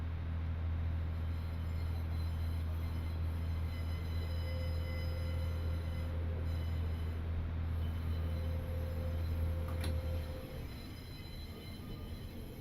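A train in Train Simulator Classic rolls steadily into platform 2, its low engine drone and rail rumble continuous and close before the hum cuts off near the end with a brief squeal.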